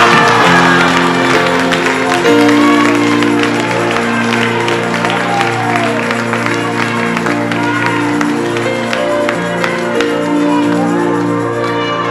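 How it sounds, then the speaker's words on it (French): Congregation applauding during a lively church worship service, steady clapping and crowd noise over sustained music, with voices shouting and cheering throughout. "Applaudis mon Dieu dit gloire."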